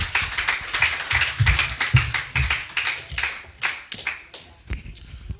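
Church congregation clapping together in praise, a steady run of sharp, loud hand claps filling the room alone without talk.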